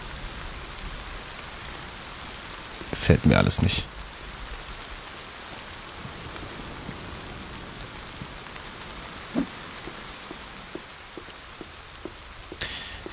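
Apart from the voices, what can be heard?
rain falling in the video game The Forest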